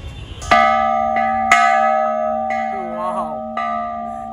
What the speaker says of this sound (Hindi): और यहाँ पे घंटी भी आई थिंक दिया गया है